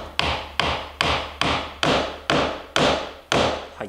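Hammer taps a wooden mortise and tenon joint on a handmade stool, seating the glued tenon with the weight of the hammer: eight even, sharp knocks in steady rhythm, close and clear, with no talk.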